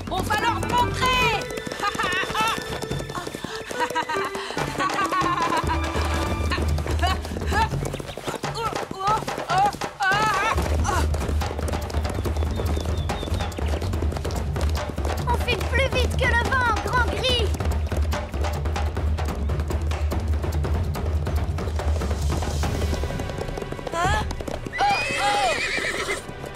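Horses gallop with rapid clip-clop hoofbeats and let out several loud whinnies in a French children's cartoon, while voices talk and music plays over the rhythmic running.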